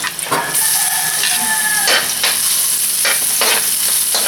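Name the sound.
sautéing onion and garlic in a pan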